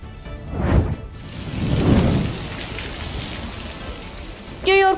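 Heavy rain in a storm over New York, a dense steady hiss of falling water with low rumbling swells, and a brief voice at the end.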